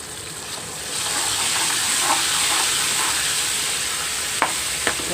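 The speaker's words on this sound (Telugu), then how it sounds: "తాలింపు వేగిపోయింది" Curry-leaf tempering frying steadily in a pan for a curry leaves pickle, a continuous loud sizzle and hiss with a couple of sharp clinks near the end.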